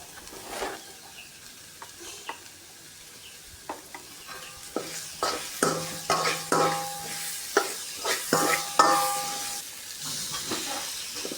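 Tomato, onion and curry leaves sautéing in a pan with turmeric and salt, a steady low sizzle broken by repeated scraping stirs that grow busier and louder toward the end, close by with no talking.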